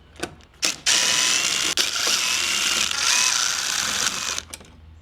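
A power ratchet or driver spins out the 8mm bolts on an Audi cruise control sensor bracket at the bumper, a close, loud mechanical whir lasting about three seconds, preceded and followed by short clicks and taps.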